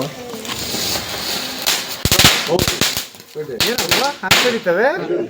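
Onion bomb firecrackers burst during Diwali celebrations: loud, sharp cracks in a quick cluster followed by scattered single bangs, with people talking and calling out between them.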